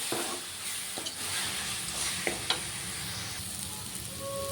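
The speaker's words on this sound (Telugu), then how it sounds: "ఒక స్పూన్ ధనియాలు కూడా వేస్తున్నాను వీటన్నింటినీ బాగా వేయించుకోవాలి" Coriander seeds and spices frying in a pan, a bright continuous sizzle with occasional soft taps and scrapes of a stirring spoon, close and steady throughout, without speech.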